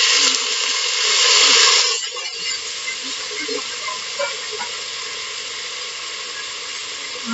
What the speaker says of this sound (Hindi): राई तड़क रही है हमारी अच्छे से